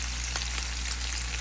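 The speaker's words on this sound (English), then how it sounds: "It's frying up nicely a little bit." Ackee and saltfish frying in a green pan nonstick pan, a steady close sizzle with a few faint pops and crackles over a low hum.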